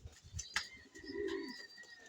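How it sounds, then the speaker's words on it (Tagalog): Pigeons kept by a fancier coo softly in a low throaty burble, with a brief wing flutter or scuffle and faint chirps around it, quiet and close. "Ayan po, ang ibon natin na naglalakihan talaga."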